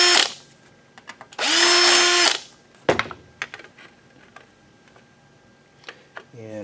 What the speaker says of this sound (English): we'll go ahead and drill this out with the regular 1/4 inch drill bit